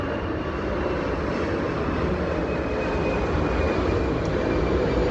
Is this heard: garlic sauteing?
no